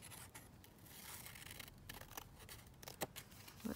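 Scissors cutting paper to size for a handmade junk journal, quiet close snips and rustling of the paper, faint overall.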